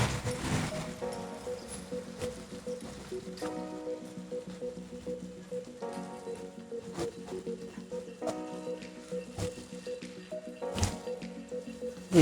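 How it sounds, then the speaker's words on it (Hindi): Chicken and green okra frying in a karahi-style wok for a dhaba-style masala bhindi gosht, giving a steady moist sizzle with wet squishing pops and a few louder crackles throughout, close and continuous without talk. "हमारा चिकन जो है बहुत अच्छे से फ्राई हो रहा है। हरी भिंडी बहुत प्यारी फ्राई हो रही है।"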